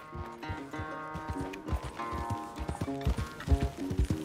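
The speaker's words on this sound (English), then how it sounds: "That big mean horse." Horse hooves clip-clop in Red Dead Redemption 2, a steady run of close hoof strikes over an ongoing musical score, with the beats growing heavier toward the end.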